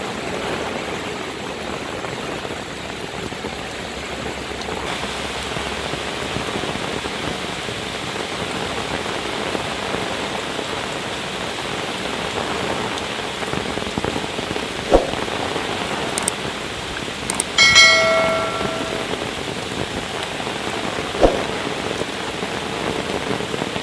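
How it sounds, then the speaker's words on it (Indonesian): Heavy rain pours steadily over the countryside on a windy late afternoon, a dense, constant hiss that continues throughout with a few brief knocks and a short tonal chirp midway. "Alhamdulillah ini hujan deras sahabat."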